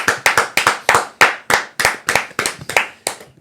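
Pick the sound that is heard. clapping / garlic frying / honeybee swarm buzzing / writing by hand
clapping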